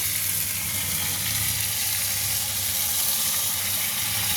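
Water poured into a pan of shrimp frying in oil, a loud continuous sizzle and hiss of bubbling liquid that stays close and steady throughout with no talking.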